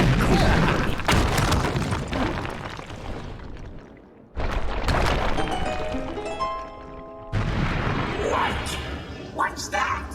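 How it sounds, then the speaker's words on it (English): A bomb exploding in the video game Disco Elysium, with a heavy booming blast and crashing debris, followed by a brief dip into silence and then swelling musical tones and rumbling, loud and close. "A bomb went off, dumbass."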